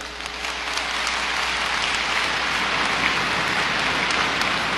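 A large church congregation at a prayer gathering claps together in a dense, rain-like patter that stays steady and fills the whole stretch, with no voices rising above it.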